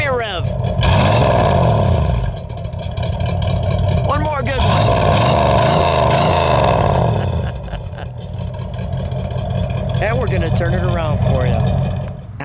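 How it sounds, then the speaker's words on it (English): A 1971 Plymouth Cuda 383 V8 revving, loud throaty blips rising and falling over a rumbling idle, with a couple of distinct rev swells and voices talking between them. "Go ahead, give me a rev. One more good one."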